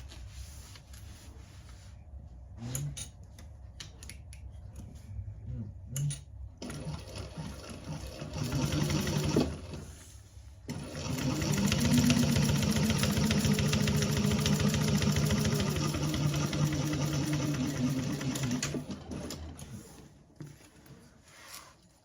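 A sewing machine runs in bursts while top stitching along a seam, a short run first and then a long steady whir that stops, with handling clatter around it and no talk.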